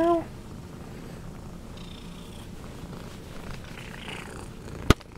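A cat purrs softly and steadily nearby, a low continuous rumble, with a brief sharp click near the end.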